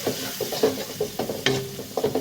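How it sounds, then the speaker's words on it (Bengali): Crushed garlic with turmeric and salt frying in a pan makes a soft sizzle under rhythmic scraping strokes of a spatula stirring the mixture. "এর মধ্যে হলুদ লবণটা অ্যাড করে দিলাম, দিয়ে একটু ভাজা ভাজা করে নেব"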